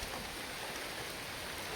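Rain falls steadily in a village in March, a faint, even hiss of drops with no break.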